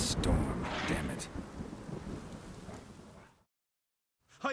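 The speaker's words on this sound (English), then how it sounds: "A storm, damn it." Rolling thunder and rain from a storm in The Witcher 3, fairly loud and steady before cutting to silence, with a brief burst returning at the end.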